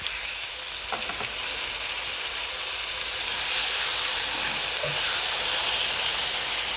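Honey lime chicken pieces sizzling in a hot skillet, a steady hiss that swells louder and fuller partway through as more pieces go in, no talking.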